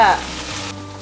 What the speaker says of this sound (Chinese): 继续让它煎成金黄色